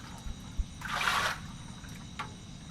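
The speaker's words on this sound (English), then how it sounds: "To remove the old cheese water, and we will use this strainer so that it will not go inside, and then we can put it back in our pot" Old cheese water being poured through a strainer back into a pot while making butter and cheese by hand in Bhutan, a brief soft pouring trickle lasting about half a second amid quiet background.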